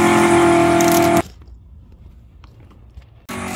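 Hot Wheels and Matchbox die-cast wagons race down a track, a loud, dense rolling roar that cuts off abruptly, leaving near-silence with faint clicks before the rumble returns just as suddenly.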